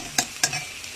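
A spatula scrapes and stirs food being sautéed in a pan, with two distinct stirring strokes over a low, steady sizzle, close and alone without voices.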